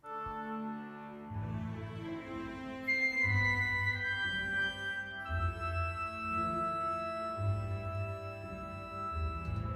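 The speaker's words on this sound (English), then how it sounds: "So that plays really nicely with the cellos and basses" Orchestral mockup built in Logic, with cellos and basses playing a rhythmic low line beneath sustained higher woodwind and string notes, full and steady throughout.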